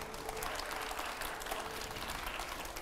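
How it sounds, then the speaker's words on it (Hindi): Continuous applause from a TV studio audience during a political interview show, moderately loud and steady for the whole stretch without talk. "जरा तालियां थोड़ी कम सुनाई दे रही है"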